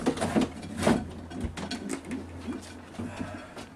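A racing pigeon in a loft gives a few soft, low coos, quiet and close, mixed with light rustling and handling noises.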